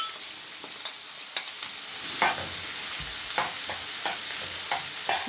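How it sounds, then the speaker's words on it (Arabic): Onion frying in a little oil in a pan on a gas stove: a steady bright sizzle, close up, with occasional soft stirring scrapes and clicks and no talking. "حطينا شوية زيت في الطاسة، ننزل كده بالبصلاية."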